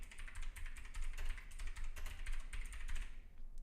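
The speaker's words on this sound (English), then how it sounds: "I know people hate when I type because I have a clicky keyboard" Rapid, continuous clacking of a clicky computer keyboard, with close, steady keystrokes and no talking over them.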